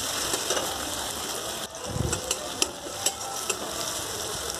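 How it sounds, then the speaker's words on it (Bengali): Spices for a Bengali fish curry with potato and eggplant sauté in a pan with a steady sizzle, while a spatula scrapes and taps against the pan in uneven strokes. No one speaks. "ভালো মতো কষিয়ে নেব যাতে মশলার কাঁচা গন্ধটা চলে যায়।"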